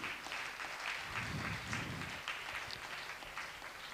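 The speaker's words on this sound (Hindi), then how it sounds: "जोरदार ताली" Audience applauding during a book release at an HSRC convocation ceremony, with sustained, fairly quiet clapping from a crowd lasting about four seconds and a faint voice in the background.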